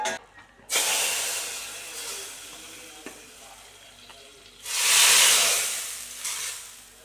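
Hot chilli-powder tempering poured into a Kerala-style curry, a loud hissing sizzle that fades into steady bubbling, then flares up strongly again near the end; no talking.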